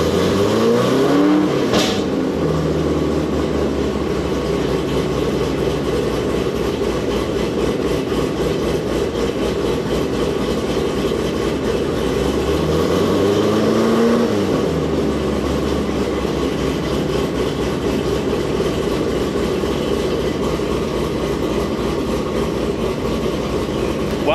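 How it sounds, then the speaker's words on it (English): A Corvette engine idles steadily with two brief revs rising and falling, loud and close, no talking. "Let's rev it and see if it does it."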